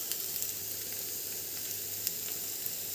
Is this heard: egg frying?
yes